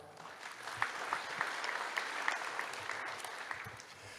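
Sustained audience applause welcomes a keynote speaker to the podium at the opening of the TCTAP 2024 cardiology conference, a steady wash of clapping from a large crowd with no talk over it.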